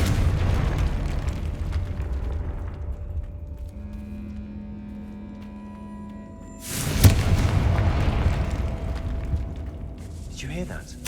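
A Confringo blasting spell from Hogwarts Legacy bursts in a loud, sudden boom about two thirds of the way through, over a low rumbling backdrop of game ambience, with a sustained tone lingering beforehand.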